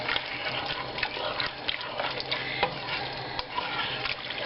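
Tomatoes, green chilies, cilantro and lime stirred into chili for a Frito pie casserole in a pot, with steady close scraping and wet sloshing swirls and a few sharper knocks of the spoon.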